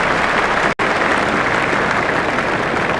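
A stadium crowd in the PlayStation 2 cricket game Cricket 2004 applauds the teams walking out, a dense, steady roar of clapping lasting throughout with one abrupt split-second dropout near the start.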